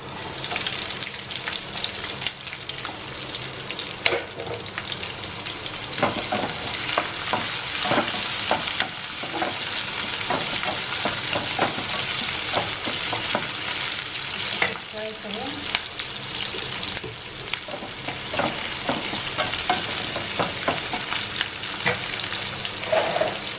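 Onions and garlic paste fry in refined oil in a pan, a steady close sizzle with scattered stirring scrapes and crackles running throughout, no voices over it.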